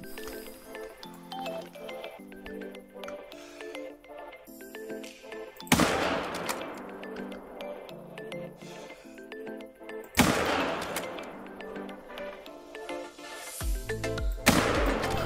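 Rifle shots at a springbok in The Hunter: Call of the Wild, three sharp loud cracks spaced several seconds apart over quiet tonal game music.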